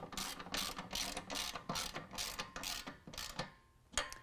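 A ratchet fitted with a 13mm socket tightens flange nuts while installing hoop steps on a 2019 Ram 1500, about a dozen rhythmic, close clicking pulls followed by a pause and one final click.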